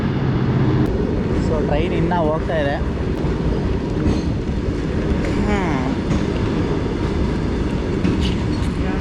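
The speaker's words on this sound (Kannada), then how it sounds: "ಯಾವುದೋ ಗೂಡ್ಸ್ ಟ್ರೈನ್ ಅನಿಸುತ್ತೆ" A goods train rolls past on a railway line, a continuous loud rumble with rhythmic wheel clatter that fills the whole stretch, while people talk over it.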